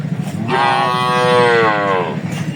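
A Sahiwal calf at a cattle market lets out a single loud, drawn-out moo lasting about a second and a half, close by, with faint background murmur before and after.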